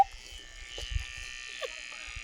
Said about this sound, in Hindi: ये देखो ट्रिमर लग रहा है